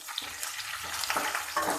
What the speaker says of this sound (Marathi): कढीपत्ता टाकायचा आणि परतून घ्यायचं